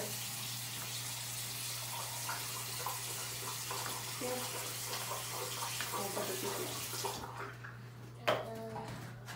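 A bathroom tap runs steadily for tooth brushing, a soft continuous water hiss under a low hum, ending with a clatter and quiet handling sounds.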